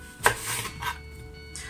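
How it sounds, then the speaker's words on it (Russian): A knife dicing a large sweet apple into tiny cubes on a board for a no-bake dessert: a few crisp, separate cuts spaced unevenly, close and clear, with no talking. "Его нужно нарезать маленькими-маленькими кубиками."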